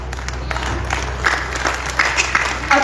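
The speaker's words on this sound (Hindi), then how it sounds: "इन्होंने ताली भी गलत जगह बजाई" An audience claps at an outdoor kavi sammelan poetry gathering on a Ramlila ground, a loud scattered burst of applause with crowd murmur underneath.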